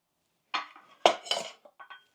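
Metal camping teapot and lids being handled up close, a few sharp clinks and rattles spaced out between moments of quiet, with no talk.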